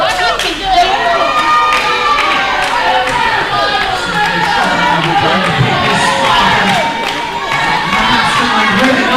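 A wrestling event crowd cheers and shouts loudly and continuously, a dense roar of voices with scattered clapping filling the arena throughout.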